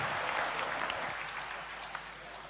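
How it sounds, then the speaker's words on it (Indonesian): Audience applause at an Islamic lecture and question session, a sustained wash of clapping from a crowd, moderately distant and gradually easing off over a couple of seconds. "kita berikan aplaus ya"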